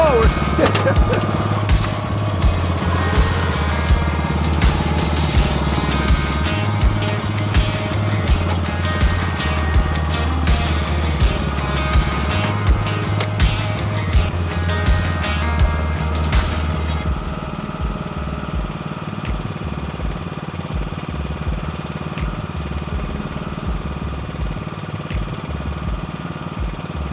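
A lawn tractor engine runs loudly and steadily throughout, with a chugging mechanical rhythm and a slight drop in level near the end.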